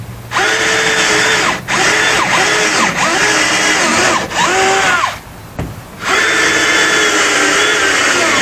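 A power drill runs in long, loud bursts close by, its motor whining up and down with brief pauses between runs.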